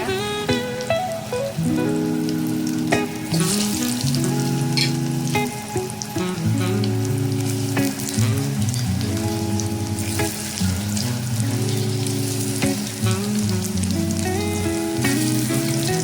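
Steady sizzle of aluvadi, crisp colocasia-leaf rolls, frying in hot oil, a continuous crackling hiss that runs throughout beneath loud, prominent background music.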